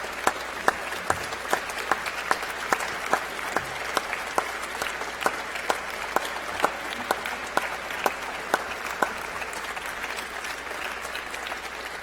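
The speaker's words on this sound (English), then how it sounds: "Round of applause for your supporters." Sustained audience applause at a university graduation ceremony (UNB Encaenia), a broad steady wash of many hands clapping in a large hall with sharp individual claps standing out, continuous and moderately loud.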